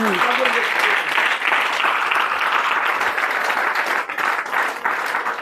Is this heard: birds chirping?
no